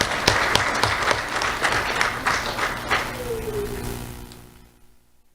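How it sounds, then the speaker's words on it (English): A round of applause for Emerson Mills at the Do The Right Thing Awards ceremony, dense clapping from the audience at full strength before tapering off and fading out toward the end. "Let's have a round of applause for Emerson Mills."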